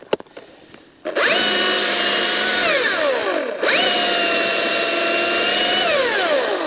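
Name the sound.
Husqvarna electric chainsaw cutting wood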